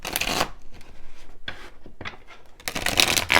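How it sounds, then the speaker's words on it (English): Tarot cards riffle and shuffle close by in bursts of crisp, papery flutter, with softer slides and flicks between them as cards are pulled. "Let me also pull some clarifying cards as well."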